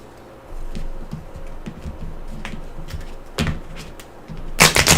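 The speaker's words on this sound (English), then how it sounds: "we will shuffle these 2 together" Playing cards from the Dark Souls card game are shuffled close by: a run of light papery clicks and taps, then louder riffling bursts near the end, with no talking.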